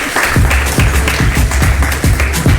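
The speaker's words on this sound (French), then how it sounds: "Beaucoup d'applaudissements pour accueillir Fatoumata Coulibaly" A studio audience welcomes a guest on a live midday show with steady, rhythmic clapping. The claps are close and fairly loud, and no voices are heard.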